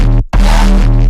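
A raw Reese bass synth patch without OTT multiband compression or EQ, a thick sustained buzzing drone with a rich stack of low harmonics, briefly cut by a short gap before resuming loud and steady.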